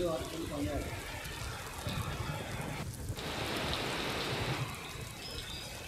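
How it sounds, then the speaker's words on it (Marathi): Heavy monsoon rain pours down steadily in suburban Mumbai, a loud hissing wash across the whole recording, with a voice speaking over it at times. "मुंबईच्या उपनगरात मुसळधार पाऊस सध्या सुरू आहे"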